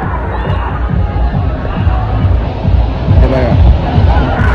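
Dense crowd hubbub and babble of many voices at a busy ride in the Wet 'n Joy water park, with occasional shouts and cheers rising over a steady low throb, fairly loud and continuous throughout.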